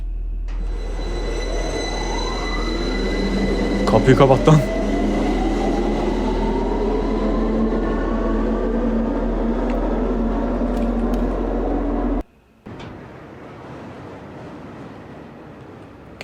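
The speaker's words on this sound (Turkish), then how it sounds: "Aa tren geliyor." A train in the horror video game Lost in Vivo pulls in with a long rumbling roar and rising wheel screech, a burst of clanking around four seconds, then cuts to quieter rumble near the end; a voice briefly speaks over it.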